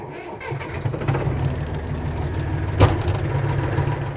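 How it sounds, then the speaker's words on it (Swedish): A Volvo BM Buster 400 tractor engine cranks and catches, then settles into a steady low diesel rumble with a brief louder surge near the end, heard up close. "Vi startar upp den här Buster 400."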